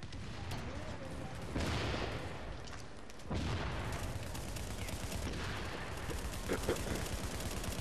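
Sniper and rifle fire in The Division during a fight at a tunnel camp in Queens, heard as sharp shots and booming reports over a constant loud wash of combat noise, with players talking underneath.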